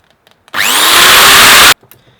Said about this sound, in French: on va pré-percer le trou, même percer le trou, pour pas fendre le bois